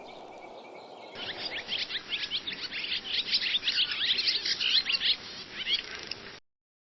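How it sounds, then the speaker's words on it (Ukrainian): A starling sings a busy, continuous stream of chirps, whistles and rattling notes, fairly close and lively, ending abruptly. "шпак справжній мастер співу"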